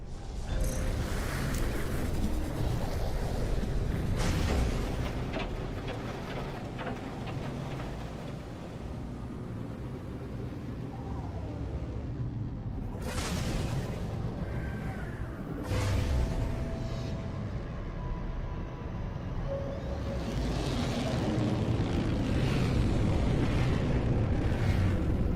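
In No Man's Sky, a freighter spaceship arrives with deep rumbling roars and several sweeping whooshing bursts, loud and continuous throughout.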